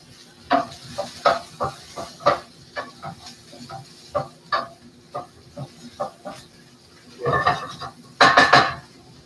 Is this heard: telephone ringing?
no